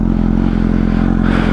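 A 2006 Honda CBR 1000 sport motorcycle engine running close by, with a dense, steady idle rumble and a faint rise in pitch near the end of the short burst, no voices over it.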